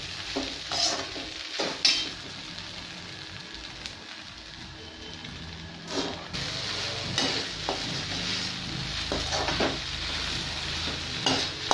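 Sabudana khichdi sautéed in a pan, steady soft sizzling with repeated scraping and clattering strokes of a spatula as it is stirred, close and moderately loud, with a brief quieter pause partway through and no talking.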